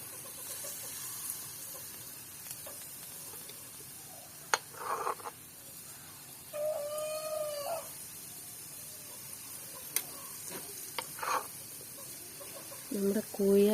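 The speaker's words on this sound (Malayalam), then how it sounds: "നമ്മുടെ കോഴിയാശാന് വീഡിയോ എടുക്കുന്നതേ അറിഞ്ഞു വന്നിട്ടുണ്ട്." A chicken clucks in short scattered bursts near a kitchen stove where cake batter is being cooked in hot oil, with a brief harmonic call midway and faint background noise between.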